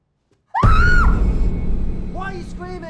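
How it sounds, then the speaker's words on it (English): A single loud, piercing scream bursts out after a moment of silence, rising then falling over about half a second and leaving a lingering reverberant tail, followed by brief faint vocal sounds. "Why are you screaming?"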